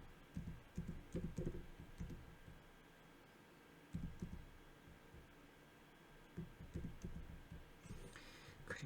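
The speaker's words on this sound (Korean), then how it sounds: "마우스가 안 되니까 그냥 치겠습니다." Number keys tapped on a computer keyboard, heard as faint scattered clusters of soft clicks over a low steady room hum, with quiet gaps between bursts.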